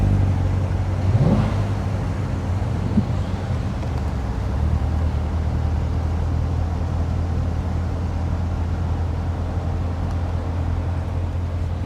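Corvette race car engines rumbling on a track during a vintage grand prix parade lap, a steady low drone with one rising rev early on, continuous and fairly loud with wind-like background noise, no talk.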